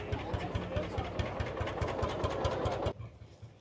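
An old tractor giving children rides at a tractor festival, its engine thumping in a steady, rapid low rhythm close by amid crowd noise and voices, cutting off abruptly near the end.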